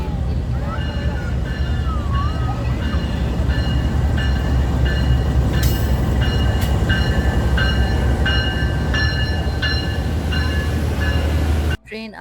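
A passenger train pulls into a station on the Islamabad to Karachi route, its steady loud rumble and rolling wheel noise continuous throughout, with repeated tonal squeals and clanks, ending in a sudden drop near the close.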